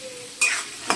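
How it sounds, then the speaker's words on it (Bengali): Chickpeas fry in a pan with a brief crackling sizzle that flares up suddenly, fades slightly, then spikes again in a short stir, heard close with no voices. "ছোলাটা আমার ভাজা হয়ে গেছে"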